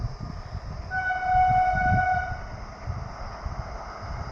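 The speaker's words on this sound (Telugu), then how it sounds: "ట్రైన్ అయితే వెళ్తూ ఉందాడా అది రైల్వే టై బ్రిడ్జి అయితే" A train crossing a railway bridge, its rolling rumble swelling to a peak midway while a long, steady horn tone sounds over it, then easing off again; no talking is heard.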